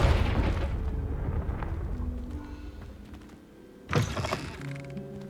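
A Confringo explosive spell cast in Hogwarts Legacy bursts out as a sudden loud boom near the end, following a stretch of rumbling game ambience with sustained magical tones.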